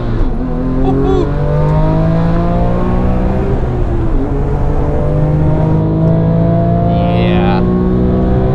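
A car engine pulls steadily at high revs on a lap of the Nürburgring, heard from inside the cabin with the windows partly open, a loud continuous drone with shifting pitch and a brief whine near the end.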